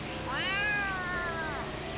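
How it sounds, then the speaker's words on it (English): A cat in the Yakuza: Like a Dragon video game gives a single drawn-out meow that rises and then falls, heard close and clear over a low game background with no talking. "Kitty!"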